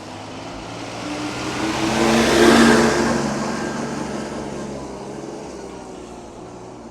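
A new tractor on an off-road test at a Gujarat tractor factory runs with a mid-pitched engine that swells to a louder rev near the middle and then fades back to a steady hum.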